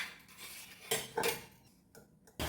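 Leftover idli being moved into a small vessel: a few short, fairly quiet clinks and knocks of utensils against metal dishes in quick succession, with no one talking.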